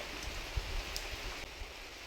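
Rain falls in a soft, steady hiss, faint and even throughout, with occasional small patters and no voices.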